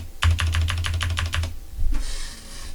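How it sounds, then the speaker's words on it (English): Rapid, close keystrokes on a computer keyboard tap out a quick burst of about a dozen clicks, then stop, followed by a brief soft rustle. "Let me try typing in the actual number and see if it'll come up."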